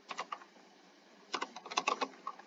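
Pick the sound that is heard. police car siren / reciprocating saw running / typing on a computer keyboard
typing on a computer keyboard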